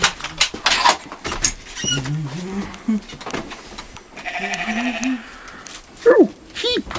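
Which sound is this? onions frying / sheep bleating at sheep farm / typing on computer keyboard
sheep bleating at sheep farm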